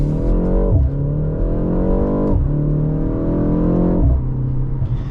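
A BMW car with a four-cylinder engine accelerating hard, its loud, close engine note climbing steadily in pitch through several gears, with quick shift breaks dropping the revs before each new climb.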